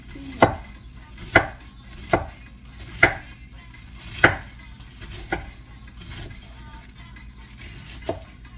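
Cabbage and carrots chopped finely with a knife on a board, a slow run of about eight distinct, unhurried chops spaced roughly a second apart, close and clear with no voices.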